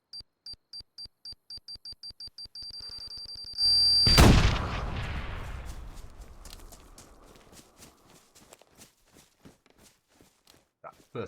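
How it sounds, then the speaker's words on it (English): In the DayZ video game, a rapid series of beeps builds to a loud explosion that blasts through a base door, followed by a long decaying rumble and scattered sharp clicks and debris sounds. "We'll see the first one with an explosion there."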